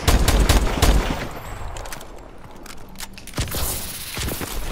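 Gunfire in Call of Duty: Advanced Warfare, with loud close bursts of rapid shots at the start, then quieter scattered reports and a few sharper cracks near the end.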